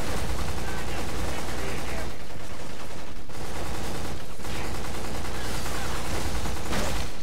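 Sustained bursts of automatic gunfire from the first-person shooter Black, played on PS2, fill the scene loudly and densely with brief lulls, mixed with game effects and a voice talking over it.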